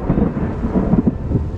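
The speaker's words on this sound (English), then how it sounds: "hopefully before this thunderstorm hits" Thunder from an approaching thunderstorm on a hot day rolls in a steady, loud, low rumble, close and continuous, with no voices over it.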